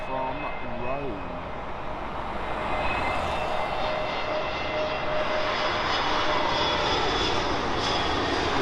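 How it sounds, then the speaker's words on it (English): A British Airways Airbus A320neo jet airliner passes with a steady, broad engine roar that holds fairly loud throughout, joined by a sustained whine. A voice is briefly heard near the start. "British Airways A320neo from Rome."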